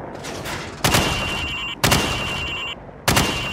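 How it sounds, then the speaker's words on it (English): Gunfire in Call of Duty 4: Modern Warfare, a weapon fired from the hip at range targets, three sharp loud bursts roughly a second apart, each followed by a sustained ringing tail before the next shot. "Now, shoot at the targets while firing from the hip."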